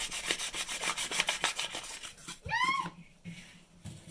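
Sandpaper rubbing a warped wooden baseboard in rapid, rhythmic back-and-forth strokes, close and raspy, followed by a brief squeak and a few scattered scuffs.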